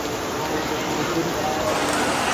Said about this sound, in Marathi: खूप असा चांगला असा पाऊस चालू आहे